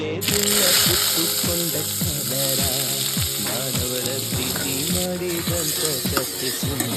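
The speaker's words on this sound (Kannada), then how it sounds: "ಈ ಥರ ಬೇಯಿಸ್ಕೊಂಡು ಈರುಳ್ಳಿ ಹಾಕ್ತಾ ಇದ್ದಾರೆ." Onions frying in a pan for a vintage-style Hubballi recipe, a steady sizzle under repeated scraping and rattling from stirring, close and fairly quiet.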